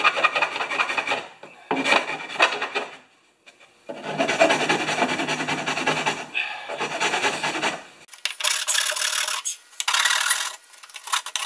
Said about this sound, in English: I'm gonna just grind down those edges